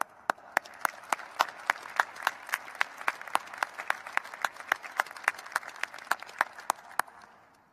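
A convocation audience applauds at a business school winter graduation ceremony, a steady wash of hand claps with sharp individual claps standing out in a regular beat, moderately distant and fading slightly at the end.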